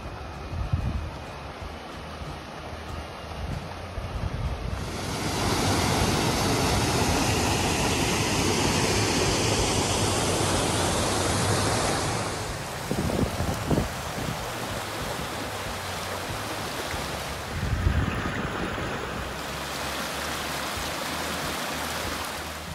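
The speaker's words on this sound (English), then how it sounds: "A very pretty waterfall." Waterfall at Mossy Cave in Bryce Canyon, Utah, a steady broadband rush of falling water that swells louder midway and then settles back, with wind mixed in and no talk.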